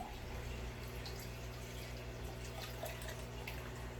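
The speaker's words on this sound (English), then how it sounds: "So now that we're getting water in this tank" Water running from a hose into an aquarium tank being set up, a soft continuous splashing wash with a faint steady hiss and low hum, no talking.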